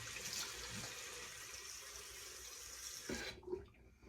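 Warm water runs from a sink tap for a post-shave face rinse, a steady close hiss of flowing water that cuts off near the end, followed by a few small splashes.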